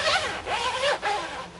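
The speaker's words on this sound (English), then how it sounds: "It's got like a, it's got a good quality zip." A good-quality zipper on a light summer jacket is zipped in several quick, close strokes, each a rasping buzz with short pauses between.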